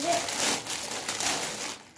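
A delivered parcel containing a guitar being opened: crinkling and crumpling of plastic and packaging handled close up, continuous for a couple of seconds, with faint voices in the background.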